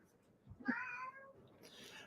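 A house cat gives a single drawn-out meow, close and fairly clear, in a quiet room.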